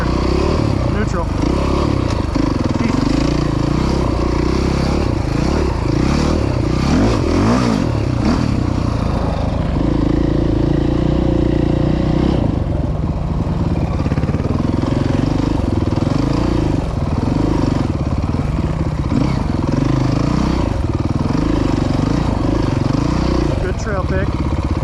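An off-road motorcycle rides through ruts at the Croom Motorcycle Area, its engine droning loud and close throughout, rising and falling in pitch as the throttle opens, with faint talk in the background.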